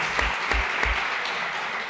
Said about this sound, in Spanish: un caluroso aplauso para que sienta el calor de los extremeños que están con nosotros